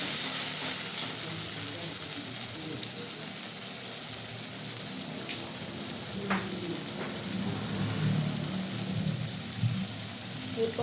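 Whisked sour yogurt poured into a spiced masala paste frying in hot oil for shahi veg paneer, giving a steady, close sizzle and hiss throughout, with faint soft clinks and no talking.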